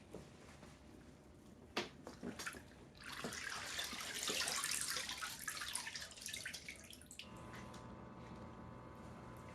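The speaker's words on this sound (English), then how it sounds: "I'm going to dump this water out and add fresh clean water in here" Water pours and splashes into a container holding a 2008 Acura MDX cylinder head for several seconds, preceded by a few drips and clunks, then settles into a softer trickle.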